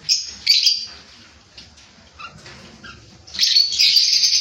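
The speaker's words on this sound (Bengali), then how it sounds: "ব্ল্যাক ককটেল, আপনারা এই পাখিগুলো আমার বাড়িতে আছে।" Pet cockatiels, lovebirds and conures kept at home chirp in sharp, high bursts: a loud flurry at the start, scattered faint calls in the middle, then a denser, louder chorus at the end.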